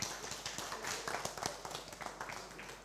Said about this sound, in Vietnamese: Một tràng pháo tay nữa dành cho chú được không ạ?